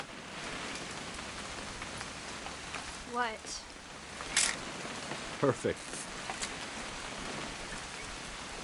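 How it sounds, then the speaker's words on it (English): Steady rain falls throughout a weekend hunting trip, a soft, constant patter at low volume, broken by a couple of brief spoken words. "It's gonna rain the whole weekend, isn't it?"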